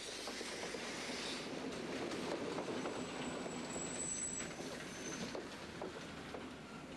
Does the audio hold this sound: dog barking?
no